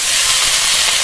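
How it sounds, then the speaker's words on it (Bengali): Cut potatoes hit hot oil in a pan of frying shrimp, a loud, steady, close hiss of sizzling that fills the whole moment without pause or talk. "এবার এর মধ্যে কেটে ধুয়ে রাখা আলু দিয়ে দেবো।"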